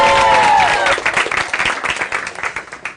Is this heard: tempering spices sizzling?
no